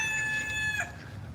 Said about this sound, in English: Now the rooster.